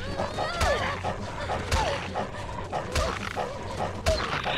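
In The Walking Dead video game, a dog barks loudly and aggressively in sharp bursts roughly once a second, over a rumbling, noisy game background.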